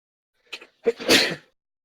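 A single sneeze rings out nearby in a quiet room. A short intake comes first, then the sharp, breathy burst.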